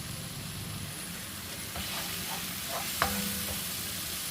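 Ground meat frying in a Tefal pan, a continuous close sizzle with a few scraping stirs and one sharp clink near the end.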